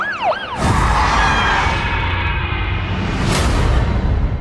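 A siren wails loud and close, rising and falling steadily in a continuous sustained tone, preceded briefly by a quick descending electronic sweep.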